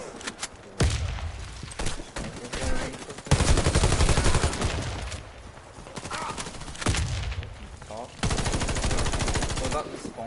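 An MP7 submachine gun fires in Warface, a first-person shooter, with dense rapid-fire bursts of sharp cracks that stop and start repeatedly across a loud, busy battle.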